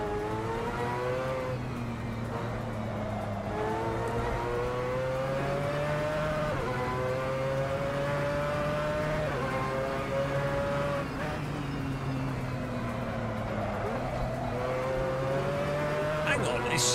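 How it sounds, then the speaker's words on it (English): Transmission whine from a race car in the iRacing sim on the Laguna Seca circuit, a steady rising tonal whine over engine drone that climbs and drops repeatedly through gear changes, continuous and fairly close. "There seems to be more depth to the transmission whine."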